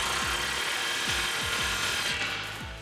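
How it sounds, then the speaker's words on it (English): Half-inch impact gun with a 15mm socket tightening exhaust clamps on a 2018 Mustang GT, a rapid series of hammering bursts over a steady whirring motor, close and fairly loud. "I'm going to go ahead and get both of our clamps tightened. I have a 15mm on my 1/2-inch impact gun."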